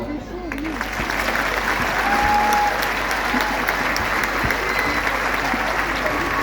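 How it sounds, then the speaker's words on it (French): Circus audience applauding under a big top, a loud, sustained wave of clapping with some crowd murmur and a few brief voice sounds running through it. "je sais qu'ils sauront entendre vos applaudissements"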